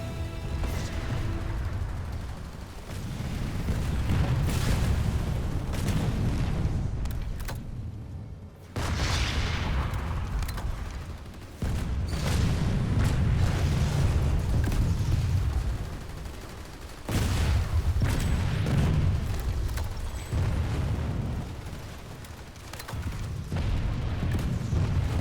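TR heavy assault weapons in the video game Planetside 2 fire amid combat, with loud, booming blasts and rumbling explosions in long rolling bursts separated by short lulls, heavy and close throughout.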